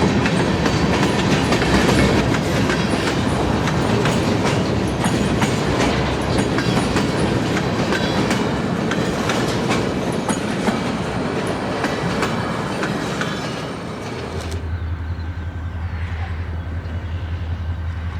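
CN local freight L573, led by an SD40-2W locomotive, rolls past loud and close with a steady rumble and rhythmic clickety-clack of wagon wheels over the rails, then the sound drops to a low hum near the end.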